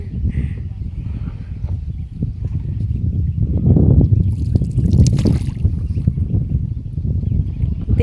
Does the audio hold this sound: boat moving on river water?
yes